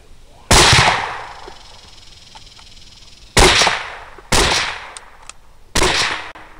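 Four loud, sharp gunshots fired at hogs during a hunt near a feeder, spaced unevenly across the stretch, each with a short echoing decay into quiet outdoor background.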